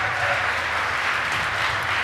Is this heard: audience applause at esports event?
yes